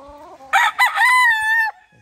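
A six-month-old white kelso gamefowl stag crows once, loud and close, a single full cock-a-doodle-doo rising after brief low clucks in an otherwise quiet yard.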